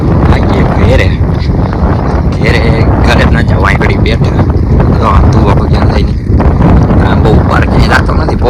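Heavy wind buffeting the microphone in a constant low roar, with voices talking intermittently underneath.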